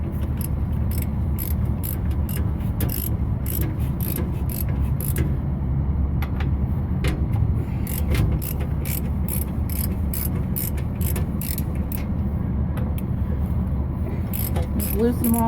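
Bolts on the skid plate of a PC160 excavator are worked loose with a ratchet wrench, giving rapid, repeated clicking bursts over a steady background hum. The work sounds close and fairly loud.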